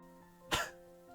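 A single short, dry throat-clearing cough bursts out once, brief and fairly close, in an otherwise quiet setting.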